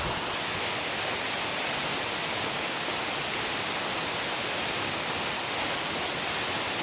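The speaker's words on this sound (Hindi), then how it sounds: "ये झरना बड़ा है क्योंकि इसमें नाले का पानी आ रहा है ज़ोर से" Sundi waterfall, fed by a strong stream, roars with a steady, dense rush of falling water, loud and unbroken throughout without any voices.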